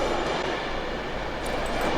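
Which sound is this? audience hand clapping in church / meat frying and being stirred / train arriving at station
train arriving at station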